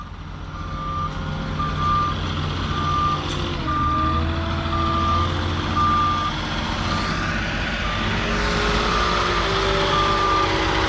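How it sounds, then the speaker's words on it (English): A Moffett truck-mounted forklift drives and throttles, its engine droning steadily and loud while a reversing beeper repeats in the background. "So what you can hear right now is the Moffett. He's throttling"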